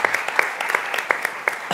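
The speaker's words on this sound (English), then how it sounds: "Round of applause." A room full of people claps in a round of applause at a forum on families and the opioid crisis: dense, steady clapping with sharp individual claps standing out, fairly close and with no talking over it.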